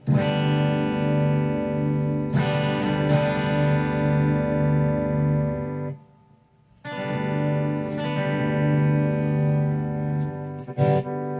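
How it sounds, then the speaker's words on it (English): Distorted electric guitar in open G tuning, amp on crunch, rings out in sustained open chords, strummed again after a brief pause midway, with crunchy overdriven tone and no voices. "tune your guitar down to open G tuning"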